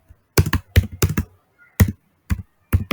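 Java code goes onto a computer keyboard in short bursts of crisp, close keystrokes, clustered in quick taps with brief pauses between them.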